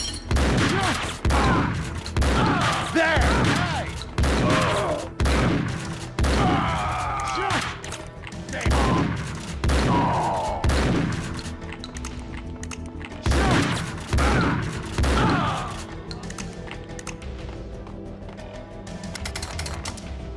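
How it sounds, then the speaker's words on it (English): Rapid gunfire from shooting enemies in Max Payne 2, with repeated bursts of shots and heavy impacts in clustered volleys. Loud near shots give way to quieter stretches and then a final flurry. "Then it was a whole lot of shooting first and asking questions never on my journey in escaping the hospital."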